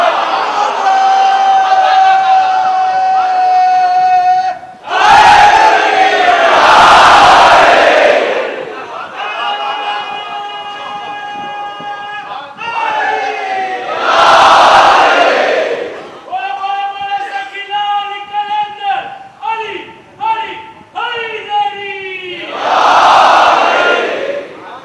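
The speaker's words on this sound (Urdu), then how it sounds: "مجلسوں میں جو نعرے حیدری لگتے ہیں" A crowd at a Muharram majlis in Mumbai chants Naara-e-Haidari slogans in loud, surging voiced calls that swell and break off again in repeated waves, with a leader's sustained call ringing between the responses.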